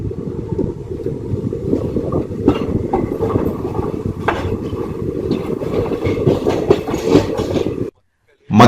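Kannur Express 16511 passenger train running between Kasaragod and Kanhangad, a steady loud rumble of wheels on rails with rattling carriage noise throughout, briefly dropping out near the end before resuming.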